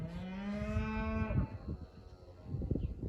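Young heifers moo on a farm, one long close call with a steady low pitch followed by shuffling and rustling movement nearby.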